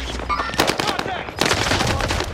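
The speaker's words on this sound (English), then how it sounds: "He just shot the dead body beside me." Rapid gunfire during a Rebirth match in a shooter game, bursts of automatic shots crackling loud and close in two clusters, with a brief gap between them and faint voice chat beneath.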